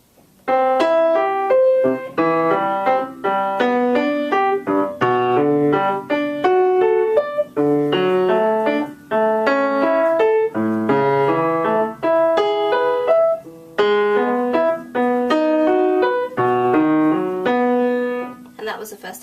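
Fast piano exercise with accented notes and rapid arpeggios, played at speed as a continuous run of crisp, evenly driven notes with firm bass tones, loud and close, no talking.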